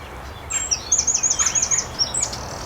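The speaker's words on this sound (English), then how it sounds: "Just lovely to hear a wren." A small bird sings a rapid, high trilling phrase of repeated notes, fairly close, over quiet outdoor background.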